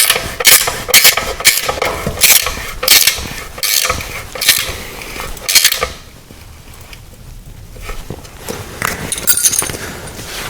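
A spanner ratchets a 12mm bolt tight on a motorcycle exhaust clamp, close and loud metallic clicking in quick repeated bursts for several seconds, then a quieter stretch with faint scraping and a few final clicks.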